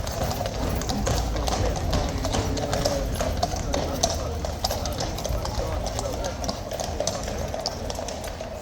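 Hooves of Household Cavalry horses clip-clop steadily on the parade ground at Horse Guards, a dense, continuous clatter of many horses passing close by amid crowd murmur.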